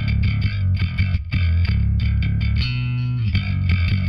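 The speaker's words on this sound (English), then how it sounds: "the clean channel sounds like this." Bass guitar through a clean amp channel with a Celestion speaker impulse response plays a loud, sustained line of full, round low notes with bright upper overtones.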